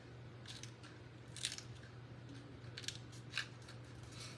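Scissors snipping during card making with stamped paper and dimensionals: a few quiet, sharp snips spaced irregularly over a faint background hum.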